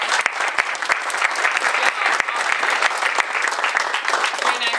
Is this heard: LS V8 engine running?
no